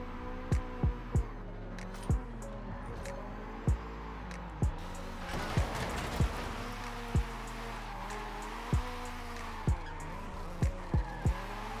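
Rear-wheel-drive swapped Honda Prelude SI driven hard, a steady engine drone with rising and falling pitch as it revs, punctuated by repeated sharp clicks and knocks at a regular pace.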